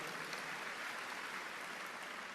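Faint, steady applause from a church congregation during a sermon at Graha Bethany Nginden, an even wash of clapping heard at a distance.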